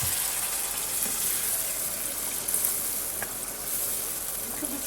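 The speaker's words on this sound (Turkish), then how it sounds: "Şimdi sıcak suyumu döküyorum." Hot water poured from a glass onto toasted, browned rice in a pot gushes and hisses in a steady, close, fairly loud stream that keeps going for the whole stretch.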